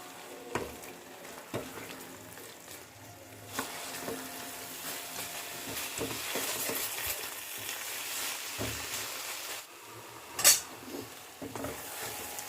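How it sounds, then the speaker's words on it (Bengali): Eggplant and spring onion stalks fry quietly in a pan while a utensil stirs them, giving a soft continuous sizzle with scattered scrapes and clinks. One sharper metallic clink comes near the end. "বেগুনটা দেওয়ার পরেও বেগুনটাকে মিশিয়ে দিয়ে খানিকক্ষণ রান্না করে নিচ্ছি।"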